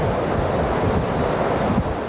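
Hurricane George blows in off the ocean over the Florida Keys, a continuous loud roar of wind buffeting the microphone with heavy surf crashing beneath, unbroken and close throughout.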